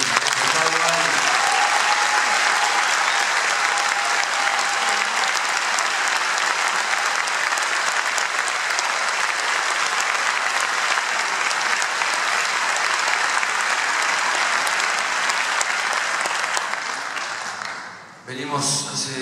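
Loud, sustained applause from a concert audience for a chamber orchestra and its director, playing alongside a quintet. Dense clapping fills nearly the whole stretch, then it fades and ends abruptly near the close.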